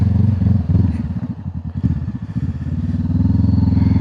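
A Honda CBR500R motorcycle engine idles with a steady, throaty exhaust rumble, loud and close, its pulsing chug wavering briefly before settling back to an even idle.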